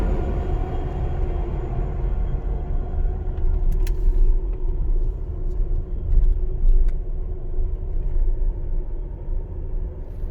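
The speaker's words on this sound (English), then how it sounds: "Got to pass the street sweeper" A steady, close road rumble from driving past a street sweeper, a broad low drone that swells slightly partway through, with a few faint brief clicks and no talk.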